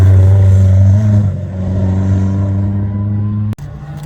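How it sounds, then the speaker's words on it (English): John Reed's MEVX hillclimb car, fitted with a 2-litre MX5 engine and gearbox, accelerates up toward Farmhouse Bend at the Harewood Speed hillclimb. It gives a loud, steady engine drone with rising pitch and a sharp gearshift break near the end. "Looking out now for John Reed in the MEVX set. 2 litre MX5 engine and gearbox."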